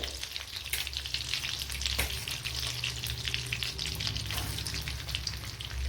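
Banana balls with chicken filling fry in melted butter, a steady close sizzle and crackle running throughout with occasional soft stirring knocks.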